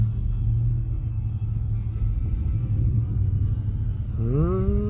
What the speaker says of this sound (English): There's cars coming.